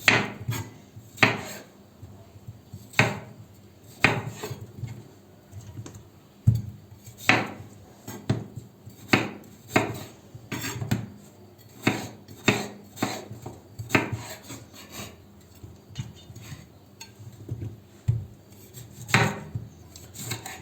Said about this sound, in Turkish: Patatesleri de iri iri doğruyoruz.